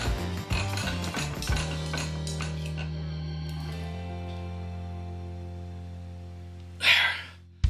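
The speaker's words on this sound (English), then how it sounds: "I can grab it with those and lock that nut up" A nut being tightened while gripped in brass jaws gives a few sharp metallic clicks and clanks at the start, then a steady low mechanical hum, with a short harsh scrape near the end.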